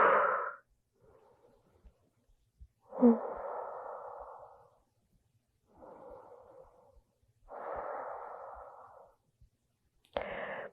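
Slow, deep breaths during a supported child's yoga pose, head resting on a prop: a few long, soft inhales and exhales separated by quiet pauses, close and gentle.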